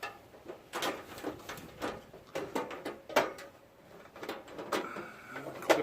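The metal wind wings of a Coleman classic two-burner camp stove make a run of sharp, close clicks and clanks with short scrapes between them, irregular and fairly quiet, and no one speaks.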